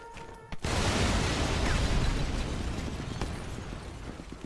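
In the video game Sniper Elite 4, a gun is blown up with a sudden loud blast that rolls into a long, dense rumbling roar, fading slowly over several seconds with scattered debris crackle.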